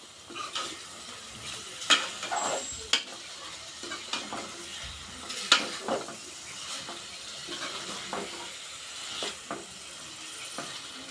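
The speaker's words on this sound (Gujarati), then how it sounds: "ધીમે ધીમે આપણે હળવે હાથે આપણે મિક્સ કરી લઈએ." A spoon scrapes and stirs through thick Kathiyawadi dhokli vegetable curry in a pan, with soft sizzling and occasional clinks against the metal.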